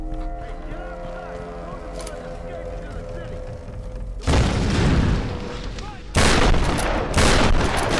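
Shotgun blasts in the Tomb Raider video game, two loud booming shots after a quieter stretch of game ambience, each burst heavy and close.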